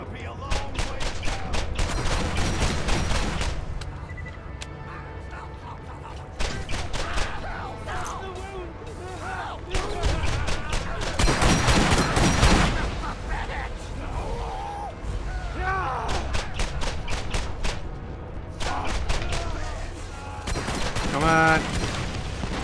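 Dense bursts of rapid automatic gunfire and booming shots from the Borderlands video game, loud and sustained across the stretch with brief lulls between volleys.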